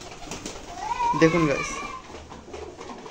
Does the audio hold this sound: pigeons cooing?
yes